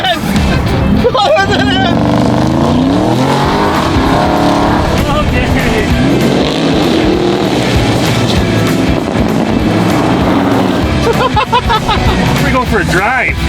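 A supercar does donuts, its engine revving and wailing in sweeping pitch bends with tyre noise, loud and close throughout, while people shout and talk over it.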